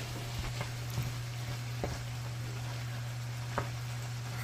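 Ground beef frying in oil for shepherd's pie, a steady close sizzle with a constant low hum under it and a few faint clicks, no talking.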